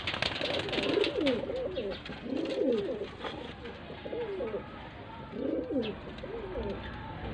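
Low flyer pigeons in Faisalabad coo in repeated soft, throaty phrases, several calls spaced a couple of seconds apart, fairly close over a quiet background hiss.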